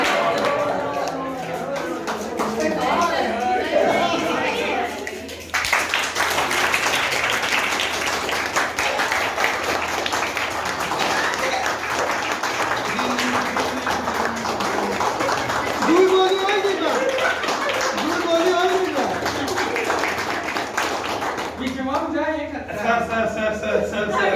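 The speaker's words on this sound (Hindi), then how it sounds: "ताली बजाई भाई" Applause and clapping from a crowd of teachers at a school cluster meeting, a steady dense patter filling most of the stretch, with voices talking around it at the start and end.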